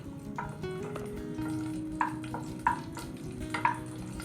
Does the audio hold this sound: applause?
no